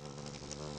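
A cartoon bee buzzes steadily and close in a kids' animated series, a continuous droning hum that holds at an even level throughout without pauses.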